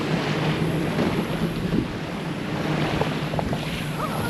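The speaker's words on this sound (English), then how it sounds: "We got a nice little breeze coming in, which is nice." A steady breeze rushes across open water, with soft lapping waves and faint creaks in the background; no one speaks.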